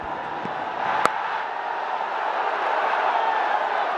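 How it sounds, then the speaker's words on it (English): Cricket stadium crowd at a Bangladesh Premier League match in Dhaka, a broad, steady roar that swells slightly toward the end, with a sharp single knock early on, distant and continuous. "a roar of the crowd"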